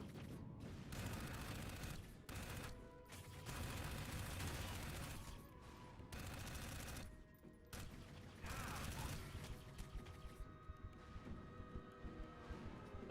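Gunfire in the video game Dark Void, repeated bursts of rapid shots separated by short gaps, then a run of quicker, lighter clicks and mechanical rattles toward the end, all fairly faint.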